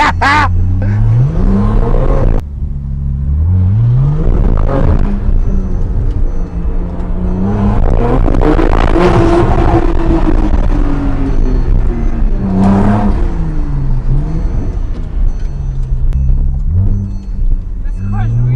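A Porsche 911 Turbo 997.2 engine revs and accelerates hard through several rising and falling sweeps, loud and close from inside the car, with excited voices talking over it.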